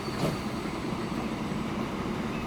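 A train runs through a Transport Fever 2 game scene with a steady, rumbling wash of rolling noise that stays loud and even throughout, with no voices.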